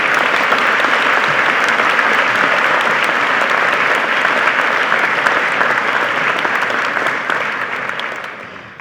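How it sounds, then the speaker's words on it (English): Sustained round of applause from the crowd at an MBA end-of-course ceremony, loud, dense clapping holding steady for several seconds before tapering off at the end. "please encourage her on her way by giving her a round of applause as well"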